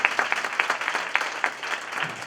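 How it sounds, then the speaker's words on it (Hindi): A crowd claps steadily to welcome Nitin at a religious gathering with a Jain monk, a dense, continuous burst of applause that stays fairly loud throughout. "ये सारा श्रेय नितिन के लिए जोरदार तालियों से उसका स्वागत"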